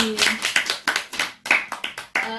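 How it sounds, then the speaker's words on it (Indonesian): Students in an elementary classroom clap for a classmate in a quick series of distinct, near claps with a loose rhythm, while children's voices mingle with the clapping. "beri tepuk tangan dulu untuk Sari"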